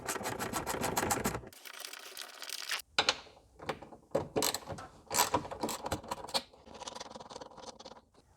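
A ratchet undoes T45 Torx bolts on the door of an Audi C5 RS6, quick bursts of rapid clicking close up, alternating with short pauses and softer metallic handling.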